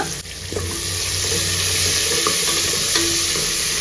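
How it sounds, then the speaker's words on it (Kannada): Onions sizzle steadily in hot oil in a pan for mushroom biryani, with a constant loud frying hiss and occasional scrapes of a spoon stirring, and no voices. "ಇವಾಗ ಇದನ್ನೆಲ್ಲ ಚೆನ್ನಾಗಿ ಫ್ರೈ ಮಾಡ್ಕೊಳ್ಳೋಣ"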